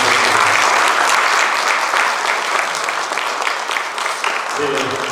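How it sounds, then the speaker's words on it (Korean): Loud, steady applause from an audience at a church event, filling the whole stretch after a guest professor's lecture, with a brief low voice near the end. "한번 크게 박수를."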